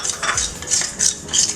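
Barnyard millet rice dry roasts in a pan as a utensil stirs it, making loud, close bursts of scraping and rattling grains in an uneven rhythm, with no talking.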